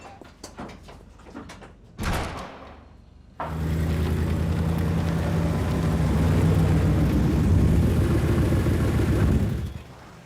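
Loud, steady roar of a plane engine rising in after a few brief bangs and clatter, holding for several seconds up close before cutting off, in a fast-paced action setting.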